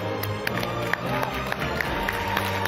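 Audience at a psychiatry congress applauds to welcome a speaker, scattered sharp claps over a busy room murmur.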